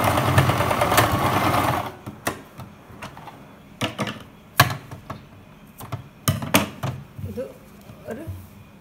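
A sewing machine stitches a pillow cover in short bursts, its rapid mechanical clatter starting and stopping at close range, while someone talks in the opening seconds.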